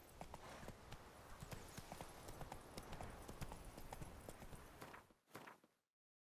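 Roach, Geralt's horse in The Witcher 3: Wild Hunt, gallops in a quick, rhythmic clatter of hooves that fades to a stop near the end.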